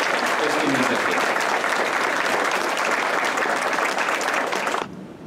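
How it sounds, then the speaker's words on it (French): A gathering honouring the Sisters of Charity of Ottawa breaks into warm, sustained applause, a thick wash of many hands clapping evenly before it cuts off abruptly near the end. "on peut les applaudir à nouveau pour exprimer ce qui nous fait"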